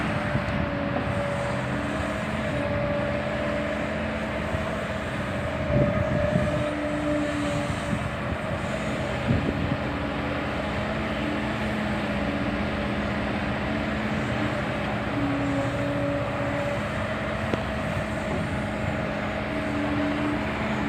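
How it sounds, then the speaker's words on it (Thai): A Kobelco SK260LC excavator with a J05E turbocharged engine runs steadily, making a loud, continuous drone with a constant tone and no talking. "เป็นเครื่องยนต์ตัวเดิมนะครับ JO5E เทอร์โบใหญ่วัดสีใหญ่ครับ"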